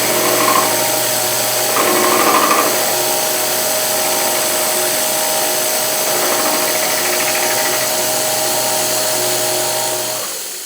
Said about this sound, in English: I'm going to mill a little flat on there, give the crank something to grab.